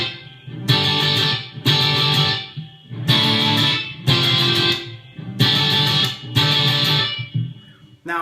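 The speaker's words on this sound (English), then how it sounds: "So this is my Overdrive patch" Overdriven electric guitar patch from a Line 6 HD500X with modest gain, playing six loud strummed chords in a steady rhythm with short gaps between them, alone and close.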